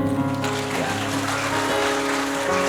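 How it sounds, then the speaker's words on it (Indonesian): A church congregation breaks into applause at a Christmas Day service, a dense wash of clapping that swells in after a brief pause and carries on steadily, with an organ or keyboard chord held underneath. "Dan mari kita nyatakan dengan tepuk tangan."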